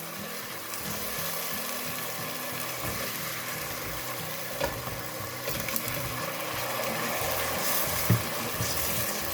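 Spices fry in oil for a chickpea curry, a steady close sizzle with scraping and clinking from stirring, brief knocks near the end.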